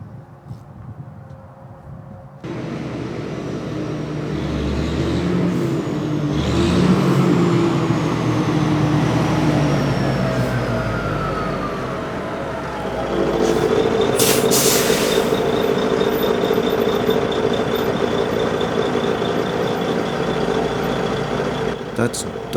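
A Pacific P-16 logging truck rolls in to fuel up. Its heavy engine rumble starts abruptly and holds loud and close, with squealing brake tones sliding downward. A second surge of rumble comes later.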